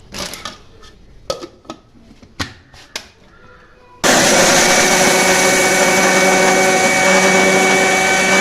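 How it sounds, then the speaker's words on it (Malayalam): After a few light clicks and taps of bread pieces going into an electric mixer grinder, the motor starts abruptly and roars loudly and steadily as it powders the bread into crumbs. "നമുക്കിതുപോലെ മിക്സിയിലിട്ടിട്ട് പൊടിച്ചെടുക്കാം"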